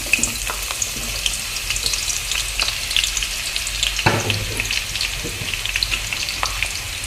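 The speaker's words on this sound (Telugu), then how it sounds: "తగినంత ఆయిల్ అయితే వేసుకున్నానండి నేను దీంట్లోకి ఉల్లిపాయలు అయితే సన్నగా తరిగిన ఉల్లిపాయలు అయితే వేసుకున్నాం" Finely chopped onions fry in oil for a chicken curry, a steady close crackling sizzle with stirring and a louder disturbance near the middle, no talk.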